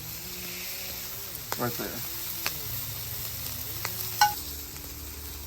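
Chicken breast with rendered fat and seasonings frying on a flat-top griddle, a steady close sizzle under a man's speech, with a few sharp scrapes and taps of a spatula.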